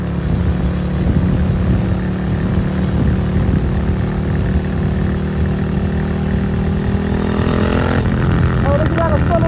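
A Suzuki SV650 motorcycle engine on a sunny city ride, droning loud and steady as it pulls and rises in pitch, with wind rush and a voice talking over it.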